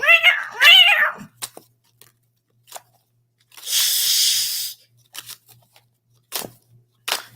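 A voice imitates a cat meowing, a drawn-out, rising and falling meow at the start, followed by scattered clicks, a noisy hiss-like burst and short sharp sounds.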